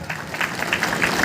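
Crowd at a Bahujan Mukti Party political rally breaking into brief dense applause, many hands clapping loudly and continuously.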